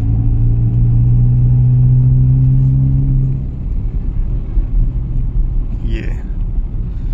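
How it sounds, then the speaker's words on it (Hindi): A car engine revving during a test drive in second gear, a loud sustained tonal drone that drops after a few seconds into a rougher rumble, with talk over it. "टेस्ट ड्राइव हो रही है, अब आप देखो सेकंड में आ गई, अभी आप स्पीड बढ़ाएंगे"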